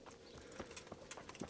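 Horse hooves clip-clopping at a steady walking pace in the medieval video game Kingdom Come: Deliverance, quiet rhythmic knocks over a soft ambient bed.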